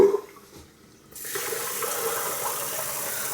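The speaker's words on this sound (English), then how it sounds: "let the water run really cold" Cold tap water runs steadily from a faucet into a bathroom sink, a continuous broadband splashing hiss that starts abruptly after a brief quiet moment and holds at an even, close level with no talking.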